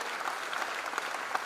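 An audience at a college freshers' induction program claps continuously for the whole stretch, a dense, even patter of many hands with no pauses.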